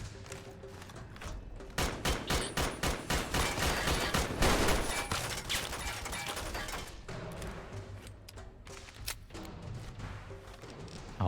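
Turret gunfire in Fallout: Tale of Two Wastelands, a long run of rapid, evenly spaced shots building in loudness and then trailing off into sparser bursts, fairly distant and continuous across the scene.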